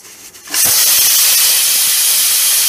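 A pressure cooker steaming jackfruit lets out a sudden loud burst of steam, a sharp hiss that jumps in after a quiet start and holds steady.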